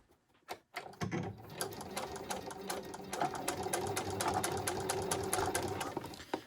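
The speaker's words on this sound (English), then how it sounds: "We're going to start our straight stitch." Sewing machine running a straight stitch on jeans denim, a few tentative clicks before the needle settles into a steady, close, rapid mechanical chatter that continues evenly to the end.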